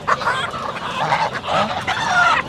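Native chickens and roosters at a rural poultry market in Khulna, Bangladesh, squawking and clucking close by in a burst of overlapping, excited calls.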